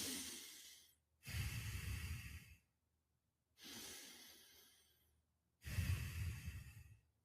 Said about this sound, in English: That's just me breathing.